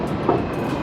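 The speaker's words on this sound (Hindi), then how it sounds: "वो ये आएगा रेल मस्त रेल है।" A train runs through an indoor shopping mall in Bahrain, its steady rolling rumble filling the clip with a low continuous drone and a brief swell partway through.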